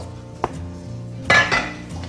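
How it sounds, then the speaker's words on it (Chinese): A knife slices ginger on a cutting board, giving a few close, distinct chopping knocks and clacks with pauses between, and no talking. "切几片姜片，"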